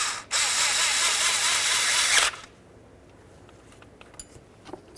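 Bolts are run in on the belt tensioner of a 1998-2002 Honda Accord. A power tool whirs loud and close for about two seconds, then stops abruptly, followed by faint clicks and rattles.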